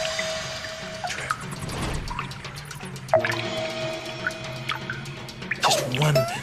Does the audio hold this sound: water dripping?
yes